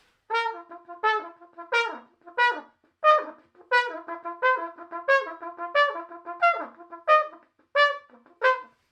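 A brass instrument sustains a steady note in a series of about a dozen uneven, swelling pulses, each blown puff rising and fading with short gaps between.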